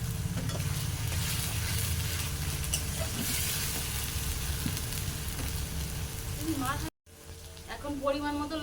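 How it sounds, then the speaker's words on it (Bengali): A ground paste of cumin, fennel, chilli and radhuni spice, followed by chopped tomato, sizzles steadily in hot oil for a Bengali swordfish curry, with stirring throughout, a sudden cut, then a quieter sizzle as new ingredients go in. "জিরে, বড় মৌরি, মরিচ আর হচ্ছে রাঁধুনি সব রকম মিশিয়ে বেটেছিলাম, এখন দিয়ে দেব।"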